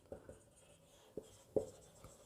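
Pen strokes on paper in an accounts class, a few faint, sharp scratches and taps spaced irregularly in a quiet room, with no voices.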